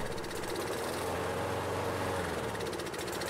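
Briggs & Stratton 158cc engine on a Craftsman 500 Series lawn mower runs warm with Seafoam trickled into the carburetor, a steady, loud, close drone with a rough low pulse and no talking.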